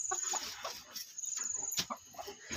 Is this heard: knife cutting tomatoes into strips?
no